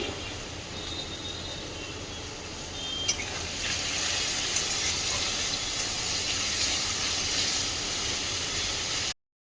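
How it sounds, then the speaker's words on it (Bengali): Vegetables frying in a little oil for paneer chow mein make a steady, loud sizzle and hiss that runs unbroken from start to finish, with no voices over it. "ওইদিকে সবজিটা ভাজছে তেলের উপরে দিয়ে"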